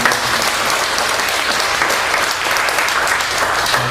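A congregation at a Korean Sunday afternoon church service claps loudly and continuously, a dense, even wash of applause filling the room without pause.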